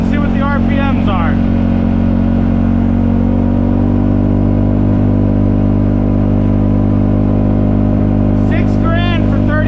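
A CFMOTO ZForce 500 side-by-side with an aftermarket clutch kit cruises with its engine droning steadily and loud throughout, while people talk and exclaim over it near the start and end.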